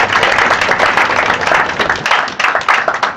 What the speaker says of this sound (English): you deserve a round of applause for yourselves too